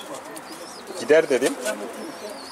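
A captured pigeon coos softly in a short burst of low throaty notes, close by, while someone speaks quietly over it.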